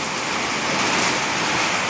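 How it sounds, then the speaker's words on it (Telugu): Dense, steady rain drums on metal roof sheets nearby, a loud unbroken wash of sound without any talking. "రేకుల సపరేట్ వినవచ్చు కదా guys, వర్షం ఎట్లా పడుతుందో"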